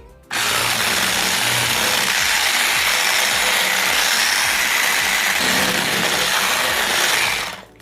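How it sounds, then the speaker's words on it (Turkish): An electric hand mixer whisks eggs and sugar for a tahini and molasses cake batter, a loud continuous whirring buzz with rattling beaters running steadily for several seconds before stopping. "Şeker ekliyorum. Ve çırpmaya devam ediyorum."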